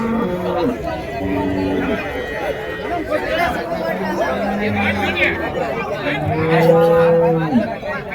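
Bullocks at the Uthangarai cattle market, where draught and cart oxen are sold, low repeated moos under busy crowd chatter and nearby talking, the bellows coming several times at close range.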